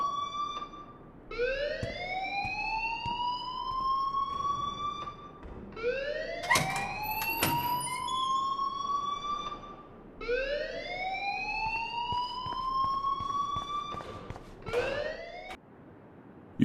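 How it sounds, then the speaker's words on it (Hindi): A school alarm in the video game Life is Strange wails in three long rising siren sweeps, each climbing and then holding steady, with brief gaps and clatter between them. It is loud and continuous, with no speech over it. "कृपया उस अलार्म को बंद करो"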